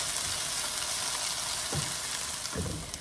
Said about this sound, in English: you're gonna wanna cook those peppers and onions for about 5 minutes